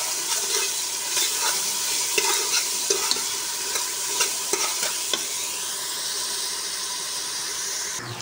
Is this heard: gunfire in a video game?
no